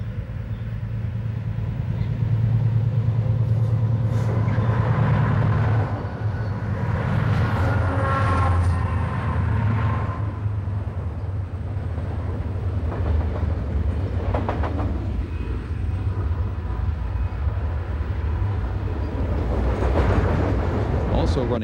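American steam locomotive number 97108 cresting the top of a grade on a railroad line, a loud, steady rumbling roll of heavy train wheels and engine noise running throughout, with deep low chuffing and a brief horn-like tone mid-pass.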